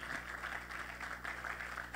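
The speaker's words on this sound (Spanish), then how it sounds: "Denle ese aplauso a Cristo por su iglesia." A church congregation claps during a sermon, a soft, fairly distant stretch of steady applause over a low hum from the hall's sound system.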